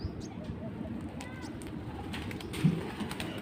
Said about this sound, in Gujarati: અહીંયા તો હોય જ કબૂતર.